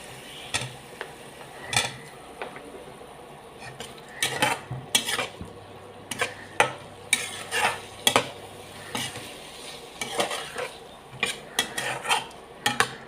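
Raw mango pieces being stirred into a fish curry in a pan, with a spoon scraping and knocking against the pan in irregular bursts over a soft sizzle, close and fairly quiet.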